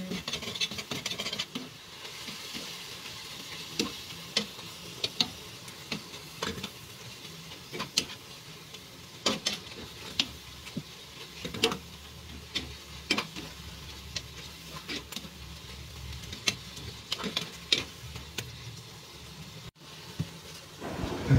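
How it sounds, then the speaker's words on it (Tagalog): Pork and tomatoes are stirred in a hot pan for sautéed cabbage, with a steady soft sizzle under repeated close scraping and clicking spatula strokes at an irregular pace, and no voices. "atin ang paghaluin ang pork at kamatis."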